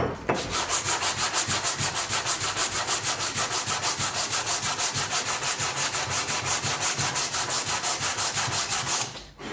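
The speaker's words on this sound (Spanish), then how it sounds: "siempre lijar en el sentido de la veta para no rayar" Sandpaper of 100 grit rubs back and forth along the wood grain in fast, even strokes, a steady rasping rhythm held close up for several seconds.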